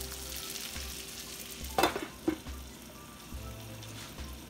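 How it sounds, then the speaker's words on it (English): Green beans being tossed and frying in bacon grease, a steady soft sizzle with a couple of sharp stirring clanks and scrapes in the middle, close and with no talking. "Toss it around because you want to coat it evenly with that grease."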